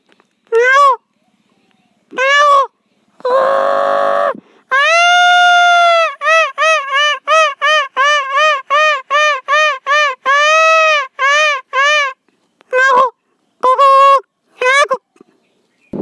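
A voice imitates a peacock calling during its monsoon dance, producing loud, nasal, honking cries repeated in a quick series with a few longer drawn-out calls, close and alone.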